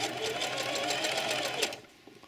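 A sewing machine stitches fabric for a small drawstring bag, its needle running in a steady, fast, close whir that cuts off abruptly near the end.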